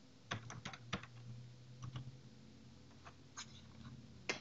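Quick, irregular keystrokes on a computer keyboard as a password is typed, close and fairly quiet, with short bursts of clicks separated by pauses and no talking.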